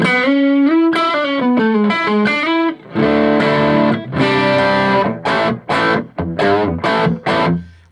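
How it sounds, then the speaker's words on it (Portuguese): A Fender Blues Junior III guitar amp turned up to full volume distorts heavily as an electric guitar plays loud, saturated chords and riffs in choppy bursts with short gaps between them. "vou pôr no talo só para você ver saturar"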